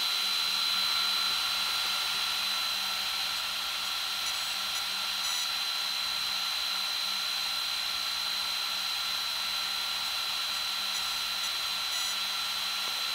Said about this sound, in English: running my 6 fans in the receiver. Those are 6 40 millimeter turbo fans.